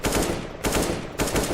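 Rapid rifle fire from Counter-Strike: Global Offensive (CSGO), a new higher-pitched gunshot sound, in three dense bursts of automatic shots, loud and close with brief gaps between, no talk.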